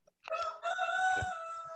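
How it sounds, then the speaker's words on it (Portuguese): A rooster crows once, a clear drawn-out cock-a-doodle-doo at moderate distance, rising and holding its tone before trailing off, heard on its own without talk. "Meu Deus, olha o galo, que bênção"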